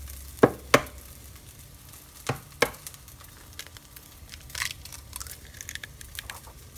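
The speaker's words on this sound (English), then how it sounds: "Let's crack one more egg." An egg cracked into a pan and frying alongside mixed vegetables: a faint, steady sizzle broken by a few sharp cracks and taps early on, followed by softer scraping and rustling, close by with no talk.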